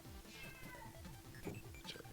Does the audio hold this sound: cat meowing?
yes